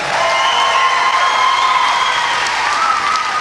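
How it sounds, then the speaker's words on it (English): Dense, loud applause and cheering from a crowd welcoming a skating club at the Saugeen Shores Battle of the Blades event, steady clapping with occasional whoops throughout. "Give them a nice round of applause"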